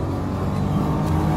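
A Nissan Juke-R engine drones steadily under throttle in third gear on a race track, a loud, continuous low roar building speed through a corner.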